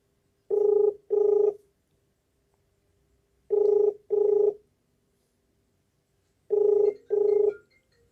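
An unanswered telephone call ringing, three pairs of double ring tones spaced about three seconds apart, clear and steady with silence between.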